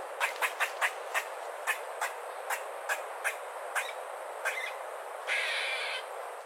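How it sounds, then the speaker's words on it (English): Squirrels in a park or backyard trees give a quick run of sharp, evenly spaced chirps that slow and thin out, then end in a brief buzzy rasp, alone and fairly close. "I would also bet that you've also heard squirrels"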